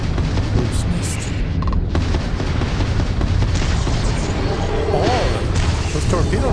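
Torpedo explosions in the video game Starfield, a dense run of heavy booms and crashes rolling one into another at steady loudness, with a voice talking over the blasts.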